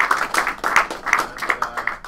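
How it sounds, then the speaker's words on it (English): A live audience claps and applauds after a startup pitch presentation. The applause is steady and fairly close, with rhythmic bursts of hand claps continuing throughout. "let's give a big round of applause for Hura for the presentation"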